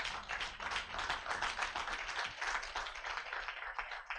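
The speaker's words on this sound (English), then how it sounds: "To our first intake, let's clap for them." An audience at a student orientation day claps for the institute's first intake of students, with lively, continuous applause in a steady, busy rhythm that fills the room without talk.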